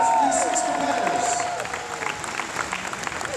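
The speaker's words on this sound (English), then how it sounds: "Huge round of applause for these 6 competitors." Audience applause and cheering for six competitors at a live Fear Factor event, a dense crowd wash with whoops, loud at first and tapering slightly, with a presenter's voice speaking over it.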